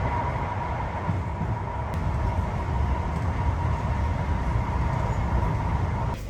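Steady rumble and rolling rail noise inside a moving Italian passenger train, heard from near the doors, continuous and fairly loud with a faint high tone running throughout.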